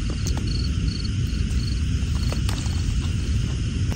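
Insects chirp in short repeated pulses at a campsite during light rain, over a dense, steady outdoor noise bed, with no talking.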